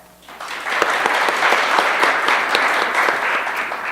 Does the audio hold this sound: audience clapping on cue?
yes